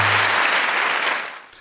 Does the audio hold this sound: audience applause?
yes